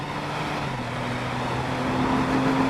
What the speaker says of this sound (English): the engine adds this high-pitched, frankly annoying whine